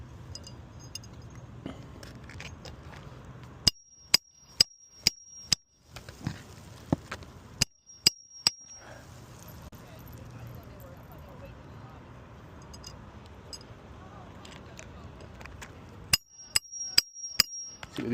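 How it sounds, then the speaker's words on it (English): Nails are driven into roof shingles during a repair, with sharp hammer strikes landing in scattered bursts amid outdoor background noise and occasional talk. "go ahead and start putting these nails in"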